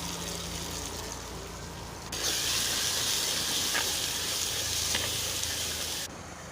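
Crushed garlic cloves hit hot frying oil for a mixed-greens kadaiyal, and a loud, steady sizzle bursts in and holds for about four seconds before dropping back to a softer background crackle.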